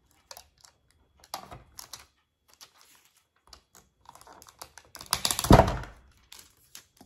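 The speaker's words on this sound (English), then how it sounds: "I'll probably wind up taking a long piece of tape here." A long strip of tape pulled off a roll to seal a travel coffee mug for sublimation, scattered soft ticks and crinkles leading to a louder ripping pull near the end, close up, with no talking.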